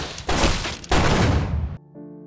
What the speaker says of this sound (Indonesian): maka kepala sipir itu langsung menembak mati Brad